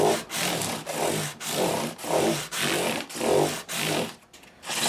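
A blade makes repeated sharpening strokes on 600-grit abrasive, close rhythmic scraping swipes with short gaps between about eight passes, and no talk.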